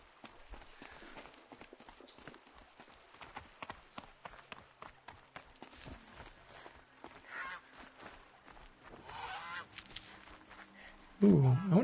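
Geese honk in the open world of the video game Horizon Zero Dawn, a busy layer of short calls and footsteps running through the whole stretch, ending in a louder burst of game sound.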